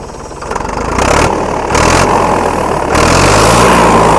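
A T20 tractor engine fitted with a new turbo is revved hard and loud up close, rising in steps from a rough idle to a sustained roaring high rev with a whooshing turbo whine.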